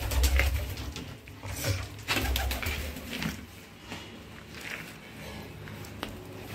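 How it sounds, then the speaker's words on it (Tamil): Fantail pigeons in a home loft coo softly at moderate distance, a few low bubbling calls with faint shuffling and footsteps around them, no speech. "புறா பாருங்க, நம்ம புறா தான் எதுவும்."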